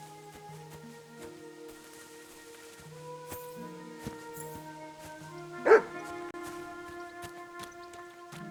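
A single sharp dog bark rings out in Kingdom Come: Deliverance II, brief and fairly clear over a steady bed of sustained musical tones.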